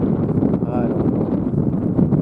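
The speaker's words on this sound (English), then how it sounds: "It's so windy out here" Outdoor wind buffets the microphone in a steady broadband rumble throughout, a continuous gusty roar during a 3M windshield crack repair, with no clear talk over it.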